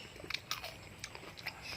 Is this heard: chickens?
no